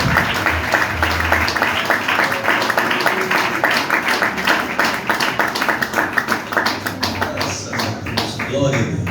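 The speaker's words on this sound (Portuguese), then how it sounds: "Mais forte as palmas para o Senhor Jesus." Church congregation clapping in praise during a Portuguese-language service, loud rhythmic hand claps in a fast steady beat for several seconds, with voices speaking and singing over them.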